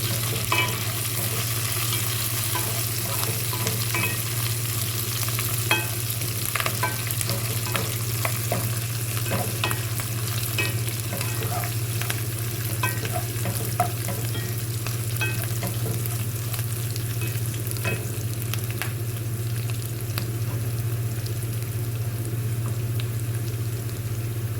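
Moringa (drumstick) leaves with dried red chillies frying in a pan, a continuous crackling sizzle under a low steady hum, with frequent stirring scrapes across the whole stretch.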